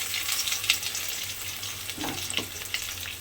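Tomato paste sizzles in hot oil in a pan while momo are being cooked, giving a steady close crackling hiss with a few brief stirring scrapes.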